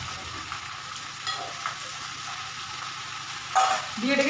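Chopped potato, eggplant, pumpkin, pointed gourd and cabbage frying in a pan: a steady close sizzle with a few scraping stirs and clatters of the utensil, and no talking.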